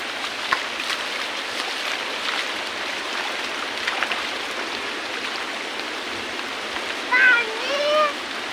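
A small stream runs beside a village river, giving a steady broadband rush of flowing water throughout, with a brief faint voice-like sound near the end.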